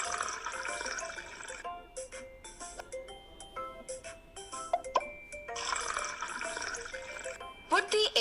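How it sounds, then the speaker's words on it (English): Vinegar poured into two empty glasses, a bright splashing liquid stream in two separate bursts with a pause between, interleaved with short clinks and a voice speaking. "Take 2 empty glasses. Fill both the glasses with the vinegar."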